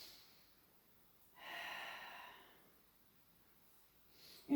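A single soft, close breath drawn in and released during a Pilates exercise, faint and breathy, with a sharper intake at the very end.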